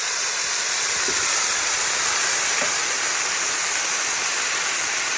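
Potatoes with mushrooms fry in a pan with a steady, loud sizzle, a dense continuous hiss with faint crackles underneath, close up and without voices.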